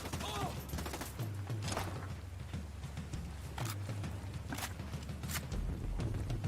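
Mortar fire in a loot shooter video game: repeated sharp broadband blasts and thuds land every second or so over a constant low rumble, with quiet voice chat underneath.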